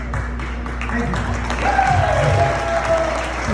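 An audience applauds at a public speech in Wahoo, Nebraska, a steady, fairly loud round of clapping from a crowd lasting the whole moment, with a voice speaking over it partway through.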